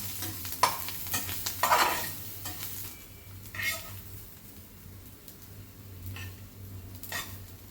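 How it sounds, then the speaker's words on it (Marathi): Okra bhaji with coriander being gently stirred in a pan, with soft scraping and intermittent sizzling bursts from a spatula moving through the vegetables, quiet and close, with a low steady hum underneath. "आणि एकदम हलक्या हाताने मिक्स करून घ्यायचं."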